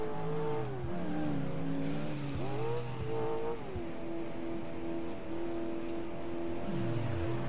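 A car engine in the video game Alarm für Cobra 11 Highway Nights hums and revs, its pitch climbing and dropping as it accelerates, steady and loud throughout with no voices.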